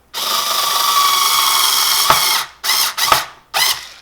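A screwdriver with an extension drives screws into model railroad track, giving one long, steady mechanical whir followed by two short bursts close by.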